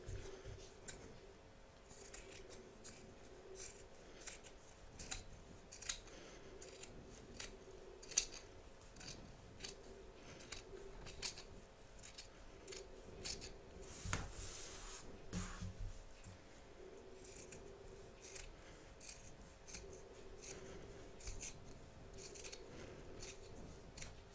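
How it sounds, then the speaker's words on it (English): Scissors snip steadily through fabric while a quilted trapunto cushion cover with a kitten design is trimmed, a dense run of short crisp cuts close to the mic with faint room hum underneath and no talk. "I'm going to do this with scissors rather than my roller cutter"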